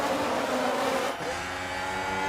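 F1 race cars from F1 Manager 2023 launch away at the start of the Spanish Grand Prix in Barcelona, a dense, loud wall of engine roar that holds steady throughout.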